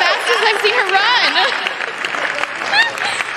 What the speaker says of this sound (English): Give it a round of applause to Abigail.